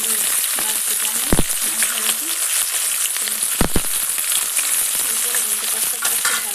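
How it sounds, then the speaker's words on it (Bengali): Fish frying in oil in a pan for a mustard fish curry, sizzling steadily and loudly up close, with a few sharp clinks of a utensil against the pan. "উল্টো পাশটা ভালো করে ভাজা হয়।"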